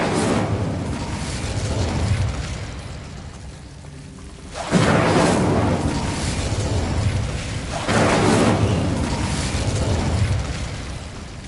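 An Incendio fire spell blasts in a Harry Potter video game, heard as a deep, roaring whoosh that swells in long surges, like rolling thunder with a heavy rushing roar.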